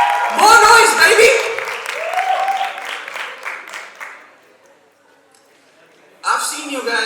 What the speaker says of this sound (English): a huge round of applause for all of you